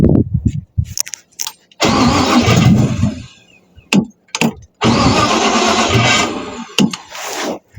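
A 350 Chevy V8 swapped into a 1953 Ford Customline cranks in short bursts, then catches and runs loudly in two longer stretches, cutting out between them, with people talking in the pauses.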